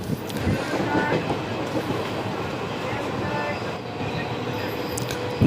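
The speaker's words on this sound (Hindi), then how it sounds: "तो ये हमारी ट्रेन चल रही है" Black Diamond Express passenger train running on rails between Asansol and Dhanbad, a steady loud rumble of wheels and carriages with brief squeals, continuous throughout.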